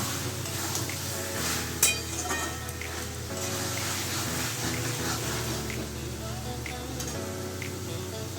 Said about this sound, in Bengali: জল দিয়ে দিচ্ছি একটু